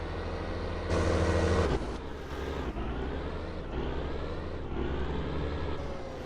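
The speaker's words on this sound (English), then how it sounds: "Quite an interesting engine sound to this." A tractor or farm vehicle engine in Farming Simulator 19 drones steadily with a deep rumble, its pitch rising and stepping as if shifting through gears, continuous and fairly close with no talk.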